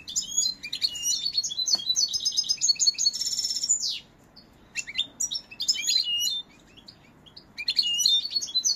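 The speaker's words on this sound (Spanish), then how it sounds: "El pájaro canta muy templado, canta muy bien." A pet songbird sings nearby in a sunny setting, giving bright, rapid trills and tweeting phrases in repeated bursts separated by short pauses, with a faint background hum beneath.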